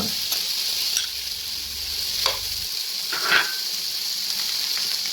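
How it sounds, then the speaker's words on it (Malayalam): Sunflower oil hisses and sizzles in a pan, a steady close frying sound with a few soft stirring scrapes and bubbling pops. "കുറച്ച് സൺഫ്ലവർ ഓയിൽ ഒഴിച്ചിട്ട് നന്നായി വറുത്തെടുക്കുക"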